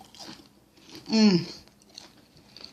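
Bite into crispy fried turkey gives one loud crunchy snap and brief chewing, close to the mic, with faint talk around it.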